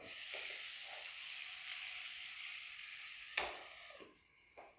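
Chicken sizzles steadily in butter in a pan for butter chicken, a continuous bright frying hiss with a few louder crackles and clatters as pieces are turned, fading near the end.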